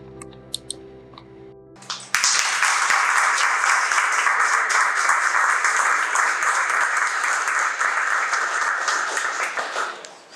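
After a short musical chime, an audience at an artist awards ceremony breaks into loud, sustained applause that carries on for several seconds before tapering off.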